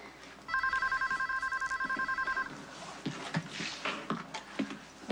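A telephone rings in a hospital lobby with a repeated electronic trill in quick bursts for about two seconds, then stops, leaving scattered faint voices and movement.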